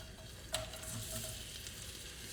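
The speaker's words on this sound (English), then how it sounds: "If it sizzles, it's not ready. Okay, that's a good sound." Soft, steady sizzling of food in a hot pan, faint and continuous, with a brief sharp clink near the start.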